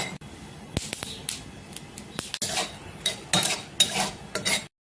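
Peanuts dry roasting in a hot pan without oil, stirred with sharp scraping strokes and rattling clicks of nuts against metal, close and irregular, ending abruptly in silence.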